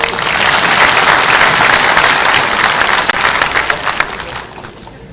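Loud, dense applause from a large audience at a public event with a governor's speech, sustained for several seconds before tapering off near the end.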